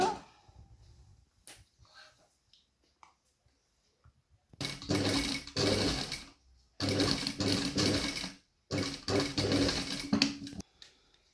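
A sewing machine stitches elastic into a waistband, sewn right sides together, in three loud close bursts after a few seconds of quiet handling noises.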